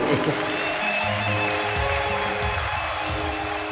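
A wedding congregation breaks into applause after a couple is declared married, scattered clapping mixed with voices and crowd murmur rather than a clean, sustained ovation.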